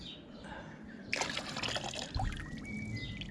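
Water poured out for a backwash, a close, quiet trickle and splash that swells into a fuller, splattering pour partway through, with no talking over it.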